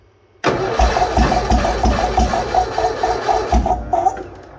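A Bolens HT-23 garden tractor engine fires up in -40 weather after a silent start, then runs with a rough, pulsing chug, loud and close, faltering toward the end.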